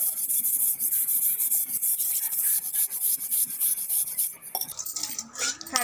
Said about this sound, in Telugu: కొంచెం పీతాంబరితో ఒకసారి ఇలా తోమితే ఇంకేమైనా ఉంటే మొత్తానికి పోతుంది